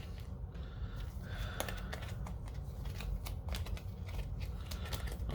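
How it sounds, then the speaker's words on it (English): A deck of game cards being shuffled by hand for a board game setup, with quiet, rapid riffling and flicking bursts spread across a few seconds, no speech. "So we're just going to shuffle them up here."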